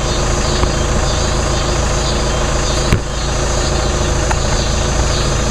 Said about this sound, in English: Have the camera right down toward the tailpipe, and I'll do a couple of revs.